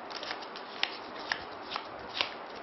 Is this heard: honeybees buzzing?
no